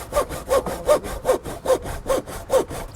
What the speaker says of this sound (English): Using a circular saw, make the cuts you can, grab a handsaw, and finish it off.